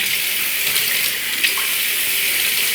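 Running water splashes steadily during a face cleansing routine, a close, continuous rush with a few brief splashes and no voices.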